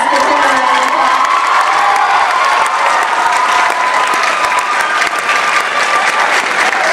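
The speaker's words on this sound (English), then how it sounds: "as you can tell by the, the the volume of applause" Loud, continuous applause and cheering from a school concert audience at a men's choir winter concert, dense clapping with whoops and shouts throughout, steady and close.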